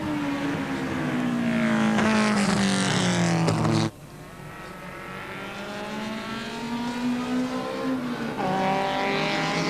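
Race cars at a 1987 motor race speed up as racing resumes after a pace car period, their loud engines droning and shifting pitch as they pass close by, with a sharp drop midway before the roar builds again.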